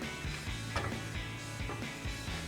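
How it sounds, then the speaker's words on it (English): Ratchet wrench driving a nut onto the lower mounting bolt of a GMC Sierra 1500 truck suspension during a lift kit install, a steady run of close, quick mechanical clicks with brief pauses between strokes. "we'll go ahead and reinstall our lower mounting bolt. Go ahead and get that nut back on."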